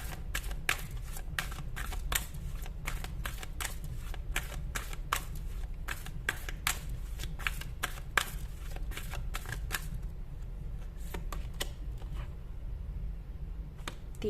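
Tarot cards being shuffled by hand, a rapid crisp series of close riffling flicks repeating steadily throughout, with no talk.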